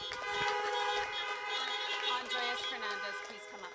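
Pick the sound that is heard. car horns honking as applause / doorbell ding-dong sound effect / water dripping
car horns honking as applause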